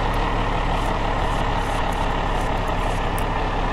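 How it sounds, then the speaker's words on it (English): Heavy truck engine rumbling steadily with a Jake brake engaged in a truck simulator game, a loud, continuous low drone with no pauses and no talk. "Its Jake brake is the same as the other truck."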